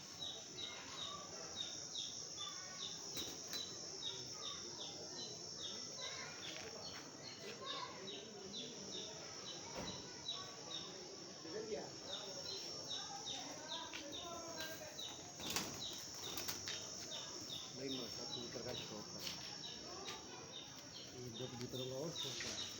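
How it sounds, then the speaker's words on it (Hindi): Pigeons on a rooftop coo and call while wings flap in sudden bursts, bird sounds scattered throughout at moderate distance, with a person talking intermittently in between. "ये कबूतर"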